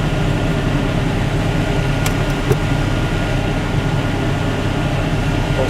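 Steady broadband blowing from the heater fan of a 1980 Datsun 200SX cabin, a constant airy rush with a low rumble and a couple of faint clicks partway through, no voices.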